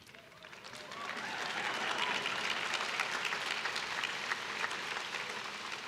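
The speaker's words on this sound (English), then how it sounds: "You know it's a nice crowd when a drink of water elicits applause." An audience at a Harvard commencement bursts into applause that swells within a second and holds as sustained, dense clapping from a large outdoor crowd.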